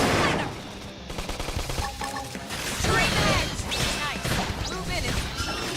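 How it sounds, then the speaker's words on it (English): Dense, loud video game combat from Xenoblade Chronicles X as a flame grenade attack lands, with a burst of crashing impacts, crackling blasts and metallic hits layered over music and effects throughout. "Flame grenade!"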